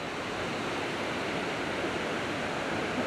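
Water rushes over the Reekie Linn waterfall in a constant broadband roar, loud and unbroken, with no one talking.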